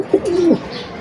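A beauty homer pigeon gives a single close, clear coo, a short low rolling call followed by faint room noise.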